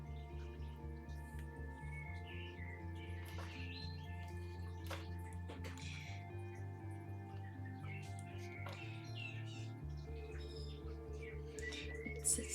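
Various wild birds chirp outside a house with short, faint, scattered tweets, heard indoors over a steady low humming musical drone.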